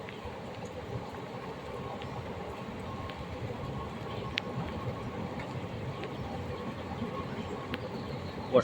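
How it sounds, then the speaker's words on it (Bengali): A train rolls past in the rain, a steady, fairly faint rumble and wash of wheels with rain noise, a few faint clicks and distant bird coos behind it. "বর্ষার মধ্যে দাঁড়িয়ে আছি, ট্রেনটা বেরিয়ে গেল।"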